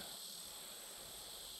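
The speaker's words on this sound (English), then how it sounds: "The bugs are being noisy." Insects chirp on a hot summer night outdoors, a dense, steady high-pitched buzzing drone that is loud and continuous throughout.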